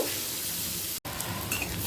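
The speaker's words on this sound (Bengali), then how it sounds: "দুটো বড় সাইজের পেঁয়াজকে কুচিয়ে নিয়ে তেলের মধ্যে দিয়ে দিলাম হালকা লাল হওয়া পর্যন্ত অপেক্ষা করব" Chopped onions, two large ones, sizzling in hot oil in a pan, a steady close frying hiss with a brief dropout midway and faint stirring clicks.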